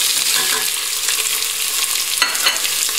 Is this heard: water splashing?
no